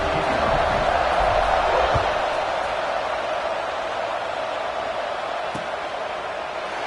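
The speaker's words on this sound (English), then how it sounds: "Night games are always so loud, so obnoxious, and these fans, they get something to cheer about" A large stadium crowd in a night American football video game roars steadily throughout, a broad continuous wash of cheering that swells early and then holds at a slightly lower level.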